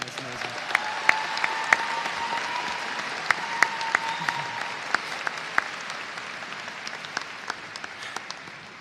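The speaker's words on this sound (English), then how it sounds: "Can we have a round of applause for the choir again?" A high school graduation audience applauds the choir in a steady, dense ovation, with sharp individual claps and a few cheers standing out from the crowd as it slowly fades.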